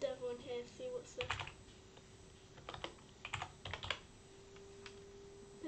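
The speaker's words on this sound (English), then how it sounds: "let me type in devil in here" Clusters of quick keystrokes on a computer keyboard, clicking in short irregular bursts with gaps between, recorded close and quiet while a low steady hum sits underneath.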